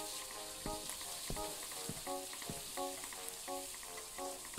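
Eggs with bacon frying in a pan in the video game Stifled, a steady crackling sizzle broken by quiet rhythmic clinks and soft knocks, faint and close with no voices.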